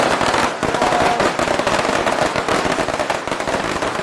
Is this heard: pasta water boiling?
no